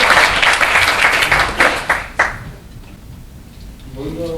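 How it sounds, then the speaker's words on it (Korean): An audience at a Facebook marketing seminar claps in a brief burst of many hands, loud and close, which tapers off after about two seconds into quiet room tone with faint talk. "박수도 좀 쳐가면서 하시죠"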